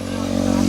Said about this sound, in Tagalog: mga panagsa mulabay nga motor